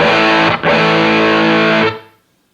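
A single electric guitar chord strummed through a Bixonic Expandora overdrive pedal, loud and thickly distorted, with a brief dip just after the attack before it sustains for about two seconds and fades out.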